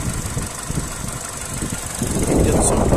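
A Peugeot 207 SW estate's 1.4 petrol engine, recently serviced, runs steadily at close range with a smooth low hum that swells slightly toward the end, no talking over it.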